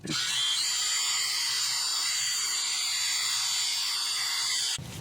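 A power drill whines steadily and loudly for nearly five seconds while drilling a hole in a 1986 Nissan Pulsar engine part, a continuous high-pitched grinding hum that cuts off abruptly at the end.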